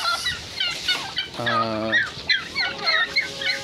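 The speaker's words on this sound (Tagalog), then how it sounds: "eto yung mga pabo natin, puro puti" White turkeys gobble and chatter close by amid busy backyard noise, with a brief low harmonic whine in the middle.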